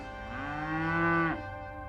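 A cow moos once, close by at a campsite beside an RV out in the open, a long sustained low call that swells and then cuts off.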